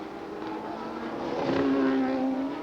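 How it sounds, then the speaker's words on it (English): 1982 Formula 1 race cars at the Dutch Grand Prix drone at a distance, the engine note swelling and rising in pitch as a car draws closer, with steady crowd and track ambience underneath. "There is the race leader on his 70th out of 72 laps."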